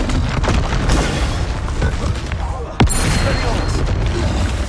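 A Bombarda spell in a Harry Potter video game goes off as one sharp, loud blast over a constant rumble of game noise and scattered smaller bursts.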